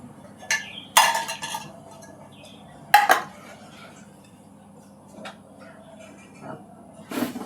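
A metal pot of dal is set on the stove with several sharp clanks and clinks of cookware, some louder and some faint, scattered through an otherwise quiet kitchen.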